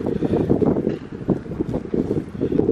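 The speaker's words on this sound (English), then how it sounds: "Oh my gosh, it's so windy." Strong gusty wind buffets the microphone with low rumbling roars that rise and fall in irregular bursts.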